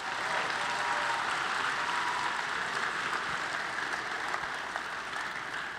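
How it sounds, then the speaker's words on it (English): Broad, sustained applause from a large crowd at a FIRST Robotics state championship in Michigan, a dense continuous roar of clapping heard slightly distant in a big arena and holding steady throughout. "Give yourself a round of applause for that."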